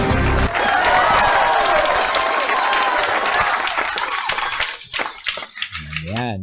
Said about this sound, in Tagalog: Sige, palakpakan natin.